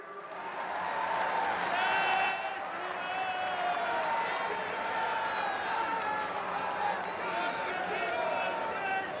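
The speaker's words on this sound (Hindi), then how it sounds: "तालियों का जय घोष रुकना नहीं चाहिए" Sustained crowd applause and cheering at a large public event in Jind, Haryana, where an honorary turban is presented, a dense steady roar filling the space with voices mixed in throughout.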